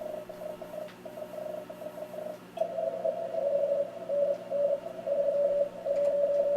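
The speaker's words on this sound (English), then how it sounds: "I was limited to using the simplest communication called Morse Code" Morse code sent on an amateur radio, likely a K3 during a WPX contest: a steady mid-pitched tone keyed on and off in short dits and longer dahs, with faster, busier keying in the second half over a faint hiss.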